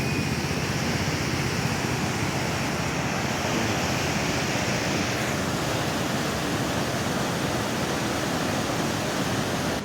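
Steady rushing of a flowing stream of water near the Badrinath pilgrimage path, a loud, unbroken broadband roar heard alone without voices.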